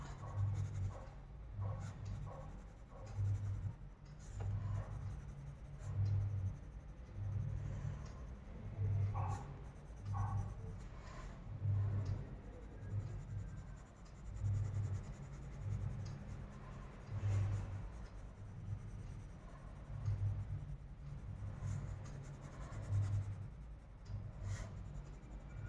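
Colored pencil scratching across paper in steady back-and-forth strokes while shading a Krishna drawing for kids, soft and close with a regular rhythm and no talking.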